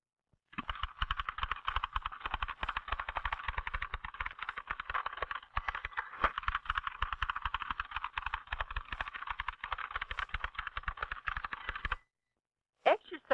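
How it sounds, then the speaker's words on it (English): Fast, steady keystrokes on a vintage typewriter, a continuous rattling stream of strikes for about twelve seconds, then a brief pause and a couple of final clacks. "the person is typing as fast as he or she can"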